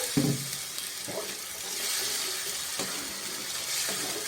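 Water poured into a pan of spiced fig curry brings a splashing hiss that settles into sizzling and bubbling, with a few scrapes of stirring.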